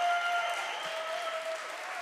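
An audience at a Providence City Council committee meeting applauds, a steady, even wash of clapping held at moderate loudness over a faint background tone.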